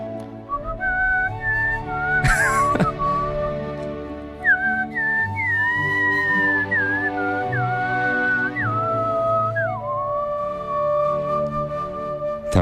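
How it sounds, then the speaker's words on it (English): A person whistles a wavering, sliding melody over a radio broadcast, loud and close, with sustained notes that bend up and down and a short noisy burst early on. "how whistling sounds on the radio"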